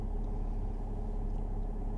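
A 2009 Mercedes E320 Bluetec diesel idles with a steady, even, low rumble, heard close and unchanging throughout.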